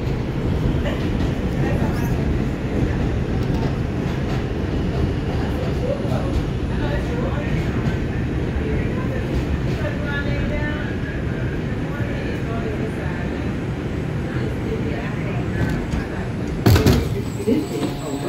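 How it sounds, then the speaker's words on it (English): New York City subway 2 train on the IRT White Plains Road Line in the Bronx, bound for Wakefield: a steady, loud rumble of the train running, with a brief rattle or clank near the end and a voice over it. "This is a Wakefield-bound two train."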